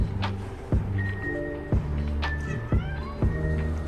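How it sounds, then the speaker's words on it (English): Several house cats meow repeatedly, loud and close, with drawn-out tonal cries every second or so over a steady indoor background hum. "The cats are being noisy."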